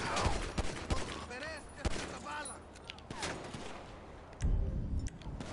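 Bursts of rapid gunfire from GTA 5 crackle in quick volleys with sharp individual shots between them, loud and close, while voices speak around the shooting.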